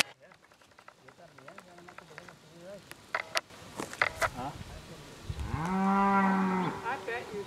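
Cattle moo on a Mexican ranch, one long loud bellow rising near the end after fainter calls, with a person talking and background noise earlier.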